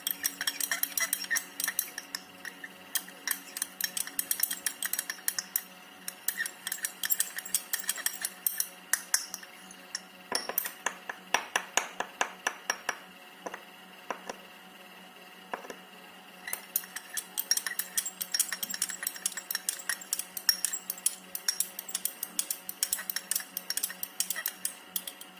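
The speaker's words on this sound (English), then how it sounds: "Now I have to mix it with the help of glass rod." A glass rod stirs ammonium sulfate crystals into distilled water in a glass vessel, making rapid, repeated light clinks and ticks that continue throughout with brief pauses.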